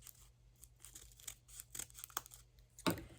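Scissors snipping through paper while cutting a paper snowflake, a few soft crisp cuts and rustles close by, with a louder crinkle of paper at the end.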